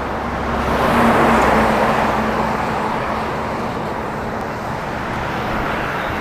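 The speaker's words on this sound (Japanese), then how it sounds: "ちょっと車の音うるさくて聞こえづらくなってきた。" Cars pass steadily along a road beside a cyclist heading toward the Tomakomai ferry port, a loud continuous roar with a low engine hum that swells and then fades slightly, and no talk.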